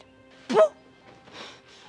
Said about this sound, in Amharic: ውሻ ነው።